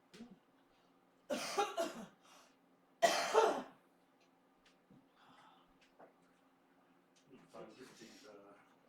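Two loud, harsh coughing fits burst out close by, separated by quiet breathing, followed by softer throat noises and faint murmuring.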